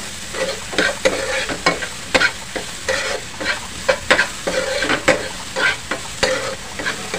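Anda ghotala egg dish frying on a tawa, with rapid, rhythmic spatula scraping and tapping repeating steadily over a continuous sizzle, close and fairly loud, with no talking.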